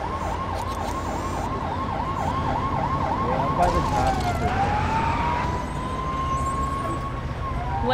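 A police car siren wails in LEGO City Undercover, cycling rapidly at first and then shifting to a long steady tone, loud over a constant traffic hum.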